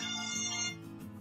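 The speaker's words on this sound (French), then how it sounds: "C'est mon téléphone." A mobile phone ringtone plays as a melodic, tonal ring, fairly steady for most of a second before fading slightly, with no talking over it.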